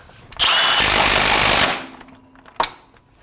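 An impact wrench with a 19 mm socket tightens a fastener on a 2000 Acura Integra engine, a loud, rapid hammering burst of over a second, then a brief clank and a short second blip.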